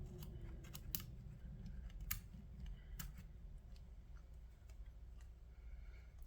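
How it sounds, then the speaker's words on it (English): Scissors snipping at an onion in a close, quiet ASMR setting: a few sharp, crisp clicks and snips spaced irregularly over soft low background noise, with no talking. "Scissors."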